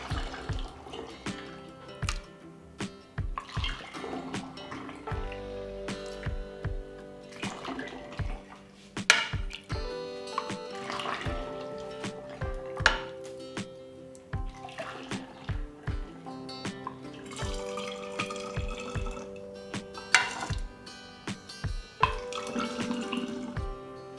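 Homemade juice is poured into sterilised bottles, with repeated liquid trickling and gurgling broken by sharp clinks of glass, close and moderately loud over soft background music.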